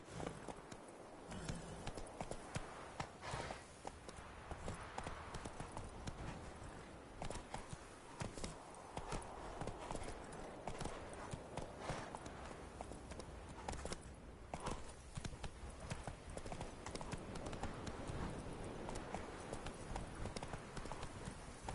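Hooves of Roach, a horse in a video game, clip-clop in a steady rhythmic gait for the whole stretch, close and continuous, with no talking over them.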